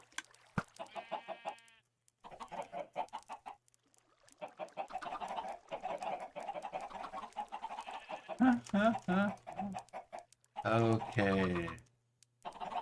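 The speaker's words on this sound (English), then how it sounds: "Yes, those are some loud chickens" Loud chickens clucking in the Minecraft video game, with several bursts of squawking and clucking heard in the middle and near the end, mixed with a person talking throughout.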